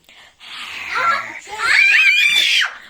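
A child screams loudly at close range indoors during a power outage, two long shrill bursts that sound half-frightened and half-laughing, with no other talk.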